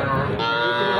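A young bull calf at a cattle market gives a single short, close moo.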